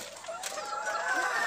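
Chickens clucking on a small-scale poultry farm during feeding, a steady close chorus of overlapping clucks and cackles alone without talk.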